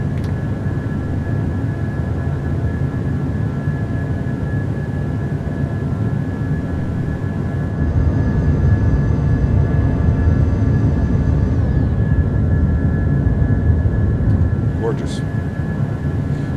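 A PMDG 737-800 in a flight simulator climbs out of Miami after takeoff with gear up and flaps clean: a loud, steady jet engine drone with a faint high whine. The engine swells slightly partway through.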